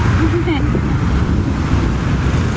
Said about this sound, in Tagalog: Gumagalaw ang mga hangin.